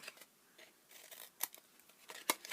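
Scissors snipping through cardstock for a small box, a few quiet scattered cuts with sharp crisp snaps near the end, close and otherwise still.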